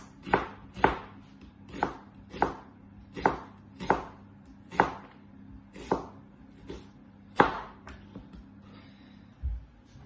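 A knife slices onions into strips on a board, each cut landing as a crisp, close chop in a steady rhythm of about a dozen strokes, with a low hum in the background.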